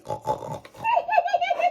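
A person's voice imitates a pig's oinking as George Pig, a short run of nasal grunting snorts right after a brief spoken word, close and fairly loud.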